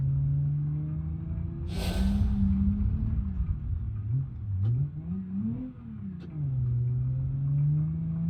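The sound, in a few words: car engine revving in BeamNG.drive video game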